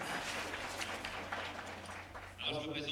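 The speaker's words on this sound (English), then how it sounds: "Let's applaud ourselves for that" An audience applauds at a francophone immigration reflection day gathering, a steady wash of clapping filling the room, with a voice speaking over the noise toward the end.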